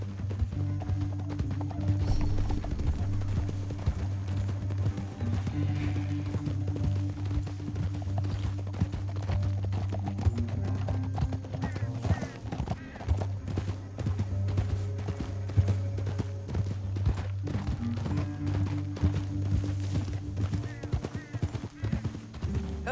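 Horse hooves clatter in a steady galloping rhythm through a canyon in the video game Red Dead Redemption 2, loud and continuous over a dense low rumble of game music and ambience.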